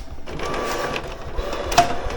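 An Epson WorkForce 7840 printer is printing, its feed mechanism whirring and clicking steadily at close range, with a sharper mechanical clunk near the end.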